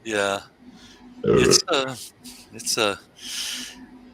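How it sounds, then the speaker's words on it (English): A loud, deep belch breaks out between bursts of talking, with voices before and after it. "That's a mighty belch."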